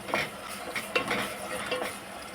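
Spatula stirs and scrapes fish curry ingredients with rock salt in a frying pan, a soft steady sizzle beneath a few quiet scraping strokes, close and faint with no talking.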